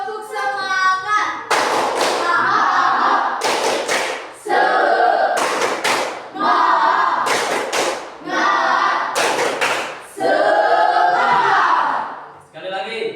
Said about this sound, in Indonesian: silakan berdiri, tepuk semangat